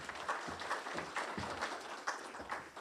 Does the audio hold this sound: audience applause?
yes